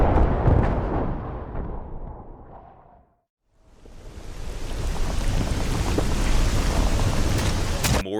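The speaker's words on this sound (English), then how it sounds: "More sad rain" Steady heavy rain hisses in a Halo fan animation, fading out to a moment of silence and then swelling back to a full, dense downpour with low rumbles underneath.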